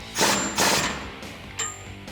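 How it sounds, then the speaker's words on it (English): A ratchet fitted with a 21mm socket tightens a bolt on a Jeep Gladiator JT track bar, giving three short bursts of metallic clicking, close and fairly quiet. "Go ahead with a 21mm socket, tighten it down."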